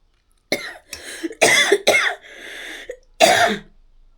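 Several sharp coughs in quick succession, close and fairly loud, with short pauses between bursts and a final harsh cough after a brief gap.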